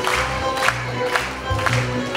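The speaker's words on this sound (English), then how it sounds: "And everybody, let's clap for them." An audience claps steadily through a 2019 maypole assembly at an elementary school, with dense, continuous applause and a few louder bursts, fairly close and loud.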